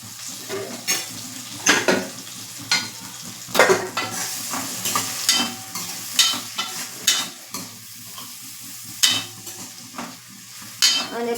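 Chopped onion, green chili and tomato sizzling in hot oil in a pan for dal fry, with a spoon scraping and stirring in irregular strokes over a steady frying hiss.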